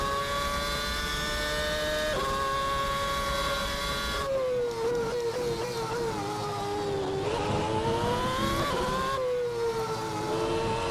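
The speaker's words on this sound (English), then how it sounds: "Let's give it some revs." A McLaren MP4/22 Formula 1 car engine in the Assetto Corsa racing game revs hard and continuously, its high-pitched, harmonic-rich wail rising and dipping through several throttle blips, loud and unbroken with no talk.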